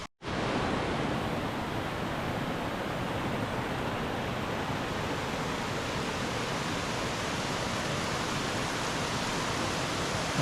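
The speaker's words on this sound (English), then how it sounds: "And I can see the waterfall in the distance." A tall waterfall of over 200 feet in Southern Oregon roars as a steady, broadband wash of falling water, heard from a distance and continuous throughout without pause.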